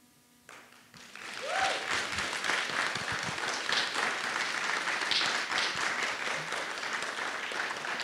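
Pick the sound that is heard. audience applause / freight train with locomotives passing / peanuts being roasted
audience applause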